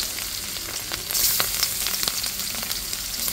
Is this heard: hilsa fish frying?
yes